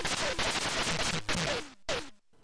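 Harsh, noisy bursts of firing and explosion effects from a ZX Spectrum video game, loud and dense with fast crackling texture, briefly cutting out before a final burst fades into quiet.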